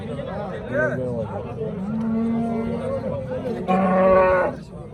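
Cows moo in long, low, drawn-out calls, one after another, close by amid a busy crowd at a livestock market in Namangan, Uzbekistan, with people talking in the background.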